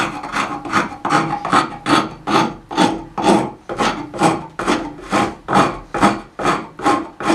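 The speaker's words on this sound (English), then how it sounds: "So I'm done using the rasp." A rasp scrapes wood in steady back-and-forth strokes, about a dozen loud, close rhythmic rasps with brief pauses between them and no talking.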